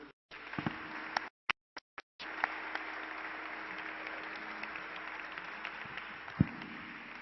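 A church congregation applauding in worship fills the room with steady, moderately distant clapping, broken by a few brief gaps at the start, then sustained to the end.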